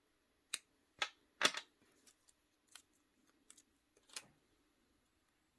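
Scissors snipping waste yarn beside a small knitting machine: a few sharp, close, quiet cuts, with the clearest three snips early, then lighter clicks and handling. No talking.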